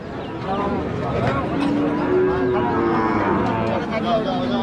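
Cows moo with drawn-out lowing calls over a steady din of crowd chatter and people talking nearby at a busy cattle market in Rajshahi.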